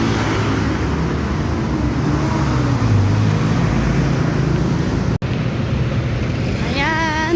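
Steady roar of Manila street traffic along a busy road, engines and tyres forming a continuous broad wash with vehicles passing close, a brief dropout near the end and a faint whining tone rising at the close.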